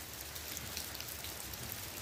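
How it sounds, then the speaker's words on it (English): Steady rain falling outdoors at a site where a cement pad is being poured, a dense even hiss of drops, continuous and close, with no one speaking. "it's raining right now"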